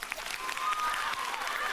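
An audience at a talk claps in a brief, faint round of mixed applause with some voices murmuring underneath.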